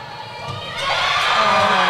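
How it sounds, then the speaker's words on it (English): Crowd noise swells into cheering at a netball match between Republic of Ireland and Wales development squads after an interception, a broad roar building from moderate to loud and holding steady. "Lots of support in the crowd for that."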